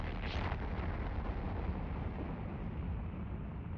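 Missiles fire in the space game Eve Online, a muffled rumbling launch burst followed by a sustained low roar that slowly fades, heard without speech.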